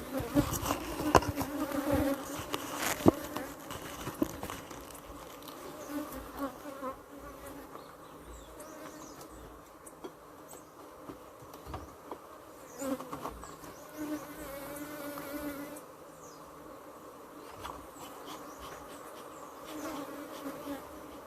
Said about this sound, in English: You have to keep your eye on those bees all the time, boy.